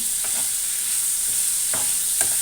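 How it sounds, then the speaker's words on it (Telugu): Drumsticks fry in a pan with a steady, loud sizzle throughout, broken by a few soft stirring scrapes, with no voices. "బాగా ఇవి దోరగా వేగాలి"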